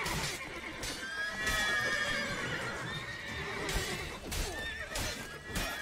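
Horse neighing and whinnying in The Witcher 3 video game, repeated whinnies over a busy game soundscape with a faint clip-clop of hooves, fairly loud and close.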